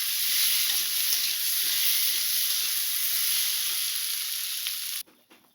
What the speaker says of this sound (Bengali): এখন আমি ভেজে রাখা আলু আর মাশরুমটা দিয়ে দেব। একটু নেড়ে চেড়ে এরপরে জল দিয়ে দেব।